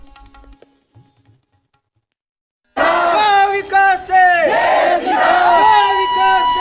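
A large crowd of local women and schoolchildren at a Narmada river cleanliness drive in Amarkantak shouts praise to Mother Narmada in loud, rhythmic, unison chants, following a brief quiet stretch with faint background sounds.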